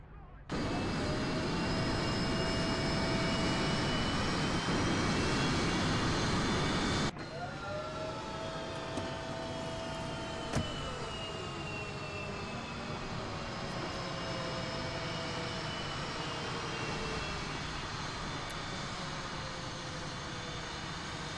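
Military aircraft engines roar in the war strategy game Men of War Assault Squad 2 (Cold War mod), a loud sustained jet whine with sliding pitches and one abrupt drop in level partway through.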